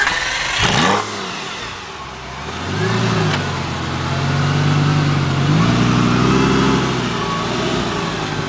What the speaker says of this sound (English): Oops, that's a pretty good rev.